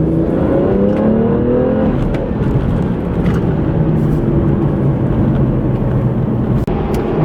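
A BMW 1M accelerates hard, its engine note climbing in pitch through the gears with a brief dip at a shift, loud and close from inside the car with steady road and wind roar underneath.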